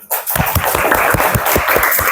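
Students in a classroom clap for classmates returning to their seats, a short, loud, busy patter of many hands filling the room.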